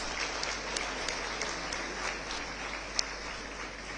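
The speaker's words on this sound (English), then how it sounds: "Let's give Varshini another big round of applause." An event audience at a convention hall applauds Varshini, a steady wash of many hands clapping at moderate distance, with a few sharper individual claps standing out.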